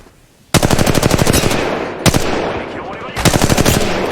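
Rapid automatic gunfire in the Valorant video game, loud and close, in three long bursts separated by short pauses, with faint talk in the background.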